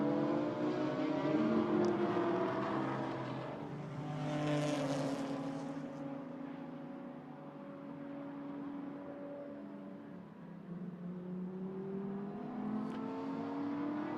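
A Lamborghini GT4 race car hurtles past a wall-mounted trackside camera at Hockenheim, its engine rising to a loud howl and then fading, with further cars droning in the distance.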